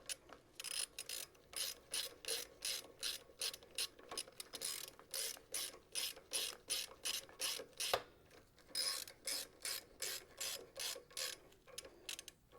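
Ratcheting hex tool tightening a bolt on a Harley-Davidson motorcycle brake caliper light mount, a steady run of rhythmic clicking bursts with a brief pause midway, close and clear, with no talk.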